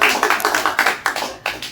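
Scattered clapping from a small audience after a chanted performance, a handful of uneven claps close by that taper off over a couple of seconds.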